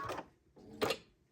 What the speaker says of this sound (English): Here I am back at the sewing machine.